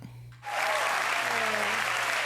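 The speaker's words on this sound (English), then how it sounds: "Who's clapping?" A room full of people claps steadily and close by, a sustained wash of applause rising suddenly after a brief lull.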